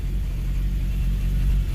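A car engine idles steadily just after being started by an Autowit SuperCap2 supercapacitor jump starter with no battery, a loud, close, low rumble that continues unbroken with no talk.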